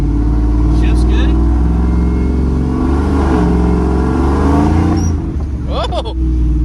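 A 1994 Silverado truck with a 1000 hp LT5 engine swap and a 10-speed transmission accelerates hard, a loud steady engine roar heard from inside the cab, with a brief dip near the end as it shifts gears.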